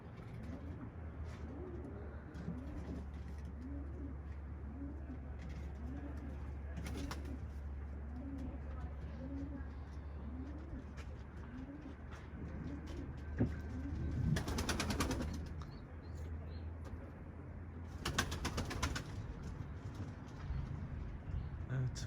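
Pigeons coo in a steady repeating rhythm, moderately close, over a constant low hum and outdoor background, with two brief bursts of broadband noise like wingbeats or rustling partway through.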